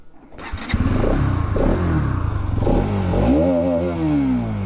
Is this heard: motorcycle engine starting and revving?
yes